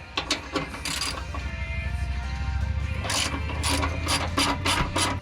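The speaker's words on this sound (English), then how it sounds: "So we're gonna have to take off this 12 millimeter nut" A ratchet clicks steadily while loosening a 12 mm nut on the skid plate of a 2017 Toyota Tacoma, the pawl chattering fast and close in a sustained run after a few opening clicks.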